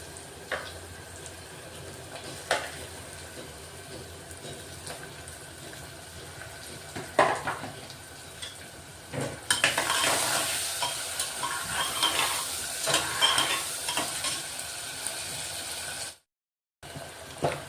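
Onion and tomato stirred and frying in a pan for a dudhi and chana dal dish, with soft scraping stirs and a steady sizzle that grows louder midway, broken by a brief silence near the end.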